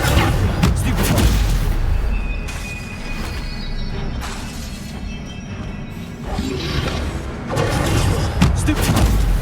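Stupefy spells cast during combat in the Hogwarts Legacy game, producing a dense, loud stream of crashing booms and thuds that swells near the start and again at the end, with no pauses between impacts.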